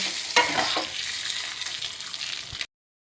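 A fried tempering poured into a pan of breakfast food and tossed, a bright hiss of hot oil and spices with a few clattering stirs, close, fading off abruptly at the end.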